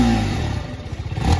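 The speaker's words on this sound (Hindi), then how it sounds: "Let's switch on this bike." A TVS Apache RTR 310 motorcycle starts up nearby, its engine catching with a low throbbing idle and rhythmic pulsing that fills the clip, with clattery mechanical texture and no talking.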